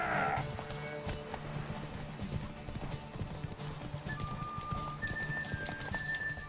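Horse hooves galloping in the video game The Witcher 3, a rapid steady clip-clop rhythm running throughout with faint game sound effects and tones behind it.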